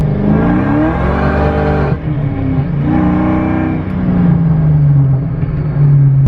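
A supercharged 4.6-litre V8 in a Ford Terminator Cobra revs hard and loud, with rising and falling engine pitch, a brief dip, then a long sustained high whine from the supercharger as it winds back down.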